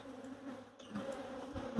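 A low, steady drone of many honeybees buzzing together near a farm apiary hive entrance, continuous and moderately close, with no speech.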